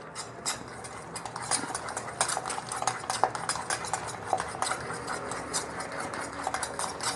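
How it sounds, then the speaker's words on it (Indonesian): Eggs mixed with seasoning powder are whisked in a bowl, making a quiet, steady run of rapid scraping and clicking strokes that continues throughout. "dikocok sampai bumbunya larut ya teman-teman. Ini kocok terus"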